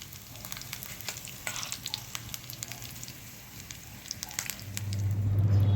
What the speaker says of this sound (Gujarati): હવે આપણે વઘારને આપણી જે ખાંડવી છે એના ઉપર રેડી દઈશું.